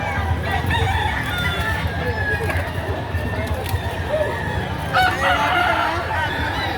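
A gamecock bull stag crows at a market gathering in Lipa City, Batangas, with other fowl clucking and crowing nearby amid steady crowd noise and a busy outdoor background.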